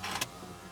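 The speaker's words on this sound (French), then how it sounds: "il faut qu'on ouvre les fenêtres parce que sinon j'ai trop chaud" Electric windows of a car being lowered on a hot day, a short motor whir with a brief louder burst near the start, close and alone inside the car.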